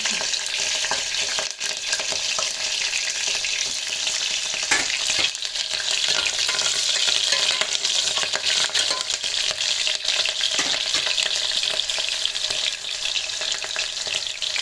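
Green chilies fry in hot oil at the start of a mutton curry, giving a loud, continuous crackling sizzle with occasional stirring scrapes, close up and without any talking.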